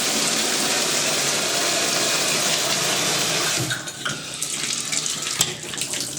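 A strong stream of water gushes from a shower with a Moen Posi-Temp valve, a loud, steady hiss that cuts off after a few seconds, leaving faint dripping and room noise.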